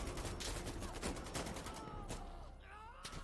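Gunfire in the video game Insurgency Sandstorm: a dense run of sharp shots and bursts, loud and close, with game effects and a faint voice mixed in.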